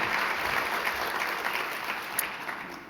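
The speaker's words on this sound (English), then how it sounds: "Please join me in giving all of these nominations or nominees a round of applause." Steady, dense applause from an audience honoring award nominees at a court management association awards presentation, loud and continuous for a few seconds with one brief sharp clap near the end.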